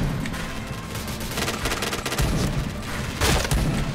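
Rapid gunfire in the shooter Point Blank, fired in three-round bursts from a rifle, comes in quick clustered cracks, loud and close, repeating over a few seconds with no talk.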